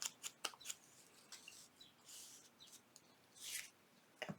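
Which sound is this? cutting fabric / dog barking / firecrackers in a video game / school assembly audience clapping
cutting fabric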